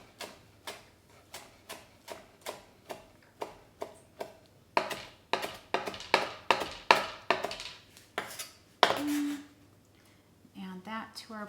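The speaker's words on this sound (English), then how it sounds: "Then I'm just gonna gather it up and give it a little chop here." A knife chops fresh cilantro leaves on a cutting board in a quick run of about twenty crisp, evenly spaced taps that grow louder midway, ending with a couple of brief clatters.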